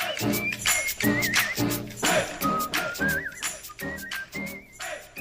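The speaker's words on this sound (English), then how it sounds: "That's your dad whistling." A person whistles a wavering, warbling tune in short phrases over rhythmic background music with steady beats.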